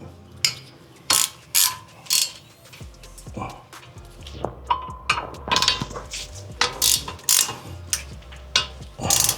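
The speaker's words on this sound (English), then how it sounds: "That's 15 bolts. So tighten it." Ratchet wrench tightening front brake bolts on a 2006–2009 Ford Fusion, with repeated sharp clicking bursts in uneven rhythm that are close and fairly loud, plus some metallic clanks between them.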